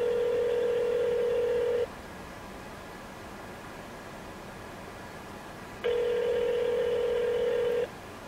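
A telephone call rings out on the line with two long ringback tones about four seconds apart and silence between them. Nobody answers and no one talks.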